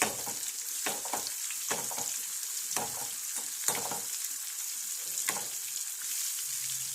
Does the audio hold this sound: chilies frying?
yes